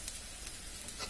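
Spice paste for kochur chora fries gently in a pan, giving a faint, steady sizzle with a few soft crackles and no voices.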